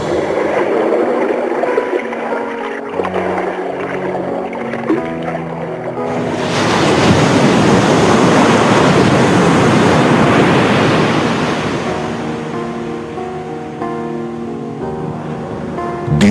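Ocean waves surge in from an animated children's film, a broad wash of sea and surf that swells midway and then eases back while soft background music plays beneath it.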